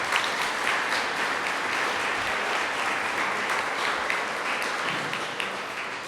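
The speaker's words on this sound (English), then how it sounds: "Big round of applause for Kathy." Banquet guests at a college athletics senior awards dinner applaud in a full, sustained wash of clapping that holds steady for the whole stretch and eases slightly at the end.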